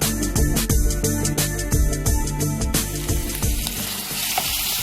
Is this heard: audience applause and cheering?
no